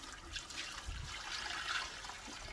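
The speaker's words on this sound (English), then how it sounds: "it says to pour 3 litres of water" Water poured from a container over a dry compressed worm bedding block sitting in a bucket, a steady broadband splashing and trickling that runs continuously at moderate level throughout.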